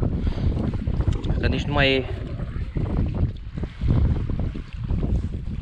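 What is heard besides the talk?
strong wind blowing at a fishing lake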